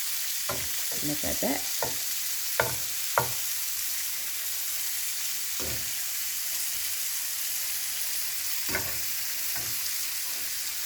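Shrimp sizzling in a hot frying pan with a steady hiss, broken by several sharp scrapes and clinks of a utensil as pieces are turned; a voice speaks briefly.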